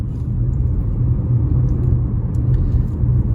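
A car climbing the two-lane uphill road of Doi Suthep mountain in Chiang Mai, its engine a steady, close low rumble that holds without break.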